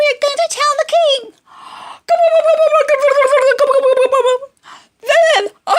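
A turkey gobbles in three warbling, rapidly pulsing bursts, loud and close, with short pauses between them. The calls come within a narrated children's folk tale about farmyard birds.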